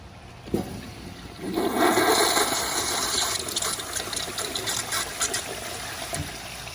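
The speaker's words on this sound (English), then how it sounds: "That was a very weak flush." A Kohler Kingston toilet gives a deliberately weak flush, starting with a sharp click, then a rushing, gurgling swell of water that eases into a thinner trickling flow close by.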